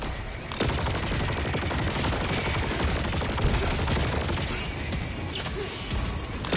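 Sentry turrets in Helldivers 2 fire in a dense, continuous automatic barrage, loud and close, with crashes and booms mixed into the rapid bursts across the whole stretch.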